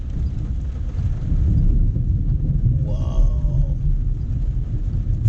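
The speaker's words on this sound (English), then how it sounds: "Full-blown thunderstorm." Thunder from a full-blown thunderstorm rolls as a deep, steady rumble that fills the whole moment, loud and sustained, with a brief exclamation from a man partway through.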